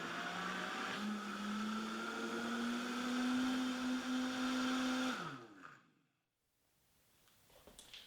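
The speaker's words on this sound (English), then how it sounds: "you're going to want to blend this again" A blender whirs loudly and steadily through dairy-free pumpkin pie filling thickened with arrowroot powder, its motor pitch rising slightly as it runs for about five seconds before cutting off and winding down, leaving near silence with faint handling noise.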